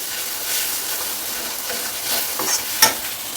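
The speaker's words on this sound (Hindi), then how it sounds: "टमाटर को इसी में मिक्स कर देंगे" Chopped tomato and green chilli are stirred in a pan over medium heat, with a steady close sizzle and repeated scraping stirs.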